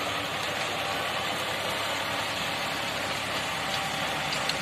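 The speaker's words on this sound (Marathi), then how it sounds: "हे बघा, जॉन डियर ट्रॅक्टर असल्यामुळं ताकदवान ट्रॅक्टर आहे. John Deere 5210." A John Deere 5210 tractor engine runs steadily at a constant, low rumbling throb, close and continuous with no voices over it.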